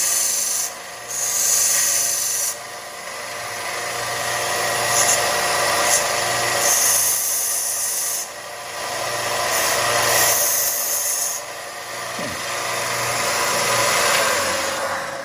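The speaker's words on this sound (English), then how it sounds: "I use the sander just like I do a stone cutting machine." Bench sander grinding silver inlay jewelry, a steady abrasive rasp over a constant motor whine, rising and easing in several long passes as the piece is pressed and lifted.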